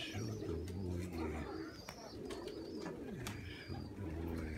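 Pigeons coo in low, repeated throaty phrases, close by and steady, with occasional sharp chirps and scattered outdoor noise over the top.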